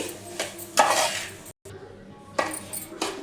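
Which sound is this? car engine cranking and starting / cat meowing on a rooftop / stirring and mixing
stirring and mixing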